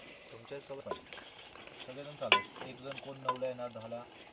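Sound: chicken sizzling and being stirred in a pot while camping

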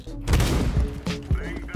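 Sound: gunfire shooting a teammate in the video game CS:GO

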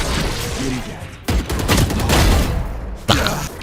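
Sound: gunfire in a video game, bullet passing through metal

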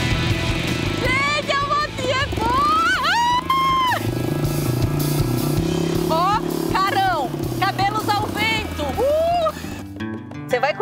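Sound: small motorbike ride

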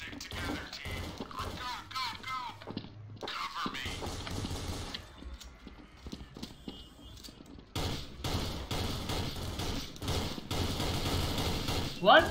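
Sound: machine gun fire in the video game Counter-Strike: Source

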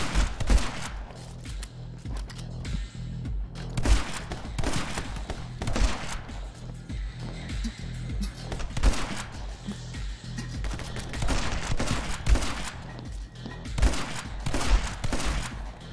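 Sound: shotgun firing in My Friend Pedro video game

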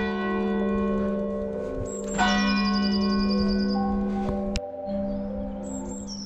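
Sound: church bell ringing

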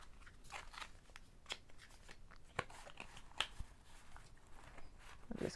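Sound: taking oracle cards out of their box

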